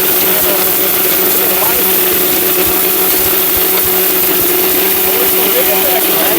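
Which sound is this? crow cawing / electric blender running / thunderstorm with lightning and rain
electric blender running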